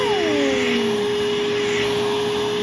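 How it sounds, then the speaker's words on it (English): A Pawaboo pet grooming vacuum sucks up dog hair during grooming, a loud, steady, close motor whine with a tone that sinks and settles in the first second, then holds an even roar without talk. "And the vacuum right here is suction, and if we want more, this thing goes really strong."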